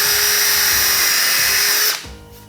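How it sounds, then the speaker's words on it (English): An impact driver drilling a hole whines steadily at high pitch for about two seconds, then cuts off abruptly, leaving a faint fading hum. "and then drill a hole."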